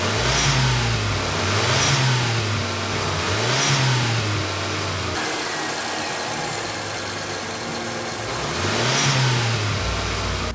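An old engine tuned with a custom ECU revs up repeatedly, loud and close, in rising surges separated by steady idling, with no talk.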